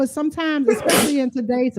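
A single sharp sneeze bursts out midway through a person's continuous talking during a live online chat, brief and close.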